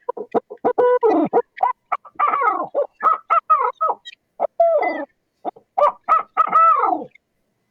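A mating pair of birds caterwauling in spring, with loud, close, high, cackling hoots that sound like laughing monkeys, delivered in rapid uneven bursts with brief gaps.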